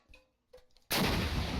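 An RPG fired in Minecraft with the Flans mod during a base raid test: a few soft game clicks, then a sudden loud blast that holds as a dense, roaring burst to the end.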